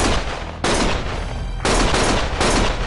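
Gunshots in the video game Lost Judgment, loud sustained bursts of rapid gunfire in overlapping volleys, close and dense with no clear gaps.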